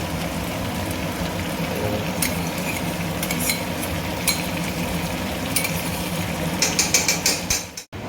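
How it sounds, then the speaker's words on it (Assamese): Onion paste frying slowly in a pan over a low flame, a steady soft sizzle with scattered clicks and scrapes from stirring, growing busier near the end. "অলপ 5 মিনিটমান লাহে লাহে কম ফ্লেমত ভাজা হওক"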